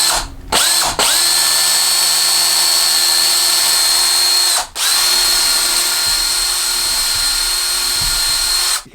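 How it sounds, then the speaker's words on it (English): A power drill fitted with a long bit bores into a green wood knife handle, whining steadily and loudly. It stops briefly near the start and again midway, then spins back up. "Okay, so we're gonna drill it out."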